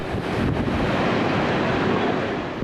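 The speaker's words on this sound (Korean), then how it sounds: "바다로 나가려는 배는 높은 파도에 떠밀려 위험천만한 모습으로 흔들리는데요" Rough North Atlantic surf off Nouakchott, where waves run about 3 m high and rock small wooden fishing boats heading out: a continuous, loud broadband roar of crashing water heavily buffeted by wind, with no talk.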